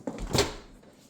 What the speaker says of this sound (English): Slow closing cabinet doors.